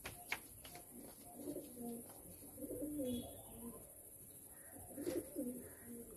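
Madrasi pigeons coo softly in a loft, several low rolling coos repeated over a few seconds, fairly faint with a steady background hiss.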